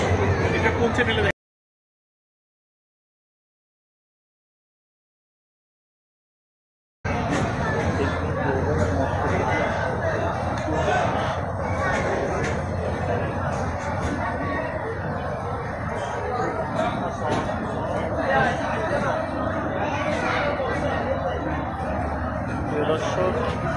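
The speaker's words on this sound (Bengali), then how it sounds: "উৎসুক জনতার ভিড় জমেছে।" Crowd of curious onlookers gathered around a newly arrived train at Cox's Bazar railway station, a steady babble of many voices close by, broken by a brief silent gap near the start.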